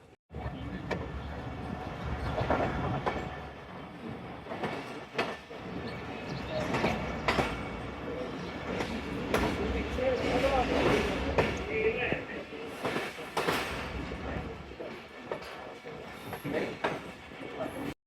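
The Shalimar Express passenger train pulls away and runs on the rails after a station stop, a continuous rumbling clatter with repeated bursts of wheel and track noise rising and falling over about eighteen seconds.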